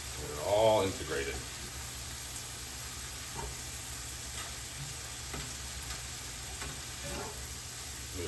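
Beef and sweet potato frying in a hot skillet, a steady soft sizzle running throughout, with a brief clatter of stirring near the start and faint scraping later.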